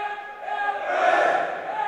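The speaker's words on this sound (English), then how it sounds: "As the two teams cheer" Spectators cheer at a senior boys high school basketball championship game in a gym, a sustained swell of crowd voices that rises and peaks midway, with a voice speaking over it.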